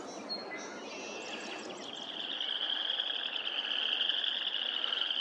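A dense chorus of frogs chirping across a pond in Madison, Wisconsin, many overlapping high calls building slightly louder toward the end, steady and outdoors.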